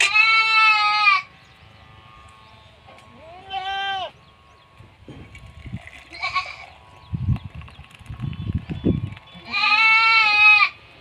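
Several loud bleats from native Indian milk goats, a pair near the start and another at the end, with quieter rustling and handling noises in between, on a goat farm.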